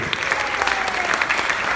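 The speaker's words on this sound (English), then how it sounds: "Round of applause for Christopher Mim." A live audience bursts into brief, dense applause, with many hands clapping close together in a short, lively burst.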